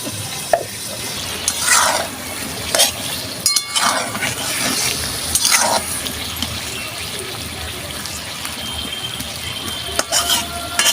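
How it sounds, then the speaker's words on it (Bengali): Mango chicken frying in a pan, a soft steady sizzle close by with occasional stirring scrapes and light clinks of a utensil against the pan, no talking. "আর একটু ভাজবো আমি"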